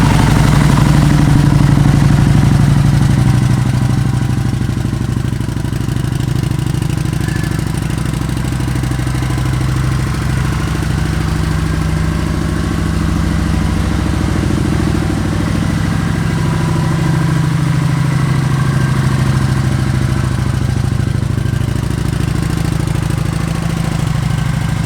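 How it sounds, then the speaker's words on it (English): A 2010 Kawasaki Vulcan 900 motorcycle engine idles steadily nearby, a low continuous rumble with mechanical clatter that holds even throughout. "I'm gonna start this bike up so you guys can hear it run."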